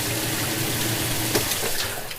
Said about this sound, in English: I don't quite understand why it's putting water in there.